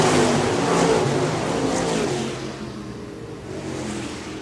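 Stock cars launching from the start of a main event at Park Jefferson Speedway, a loud roaring wash of engines accelerating together close by, then easing and swelling again as the pack pulls away.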